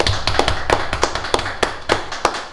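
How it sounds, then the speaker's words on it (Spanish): A short burst of applause for a guest at the end of a podcast, a few people clapping close by in an irregular, fairly loud patter that carries on steadily. "Muchas gracias Jorge. Un aplauso."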